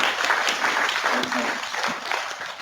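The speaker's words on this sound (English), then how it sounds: "another round of applause" Audience applause fills the room with dense, steady clapping at moderate loudness, cheering voices mixed in throughout.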